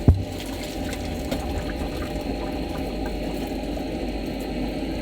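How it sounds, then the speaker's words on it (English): An overhead extractor fan runs steadily inside a camper van, a constant close whooshing drone with a low rumble beneath, opening with a brief knock and carrying no talk. "put the overhead extractor on"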